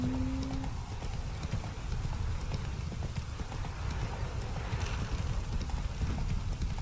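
Horse hooves clip-clopping steadily in the video game Witcher 3, a quick regular trot over ground with ambient game sound, no voices.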